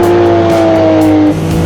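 A Group C Porsche race car engine from the 1980s roars loudly up close with a sustained, high-pitched whine, then drops in pitch near the end as it downshifts.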